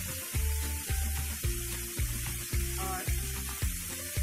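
Apple pieces fry in hot ghee for homemade apple jam, giving a constant bright sizzling hiss under a regular pulsing music track, with a brief spoken word.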